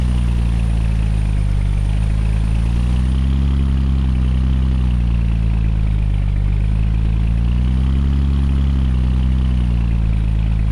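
A heavy Edison BDE logging truck diesel in American Truck Simulator, hauling on ProMods Canada roads, drones loudly and continuously, its low pitch sagging and climbing twice as the revs drift between about 1,000 and 1,500 RPM.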